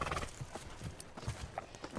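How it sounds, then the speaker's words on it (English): A horse from the film Brokeback Mountain clops and snorts restlessly in a short, faint, close stretch, with no talk over it. "That is not a calm horse."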